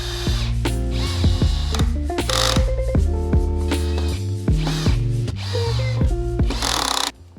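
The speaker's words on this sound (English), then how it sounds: "you definitely want to make sure that you have your drill in a low setting like this so that you don't split or crack the wood." A power drill on a low setting drives pocket-hole screws into the wood of a broken dresser under repair, with a close, loud motor whine that rises and falls in steady bursts alongside a ratcheting clatter.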